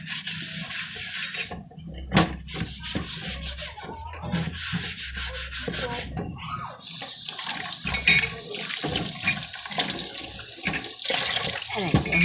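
Chicken pieces and kitchen gear being washed under a running tap, with water splashing and rushing, scrubbing and rubbing against surfaces, growing steadier and louder in the second half.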